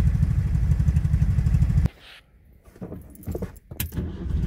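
A ZAZ-965 Zaporozhets car engine idles with a steady low throbbing putter close by, then cuts off abruptly, leaving faint clicks and shuffling.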